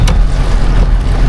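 Heavy rain pours down in a Texas thunderstorm during a night hog hunt, a loud, dense, unbroken rush of water with roaring wind noise across the microphone.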